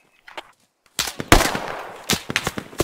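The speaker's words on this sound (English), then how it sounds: "Under fire." Gunfire in the tactical shooter game Squad: a brief quiet start, then a burst of sharp rapid shots and impacts at close range, followed by more scattered cracks.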